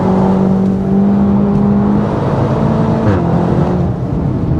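A hot hatch driving on the Nürburgring, its engine holding a loud, steady drone with a tone that shifts as revs change, continuous and close throughout.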